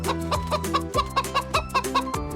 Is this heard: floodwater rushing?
no